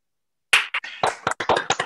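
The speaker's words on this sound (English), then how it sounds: "please join me in turning on your audio and providing a round of applause for our speakers" An online video-call audience applauds the speakers, bursts of clapping and mixed sounds starting abruptly after half a second of silence, uneven and slightly clipped, with several participants joining at once.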